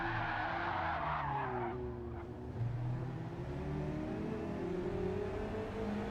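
Tires squeal and skid with engine revving and wheelspin from a Mazda race car in a racing video game, a continuous loud screech running through the whole stretch.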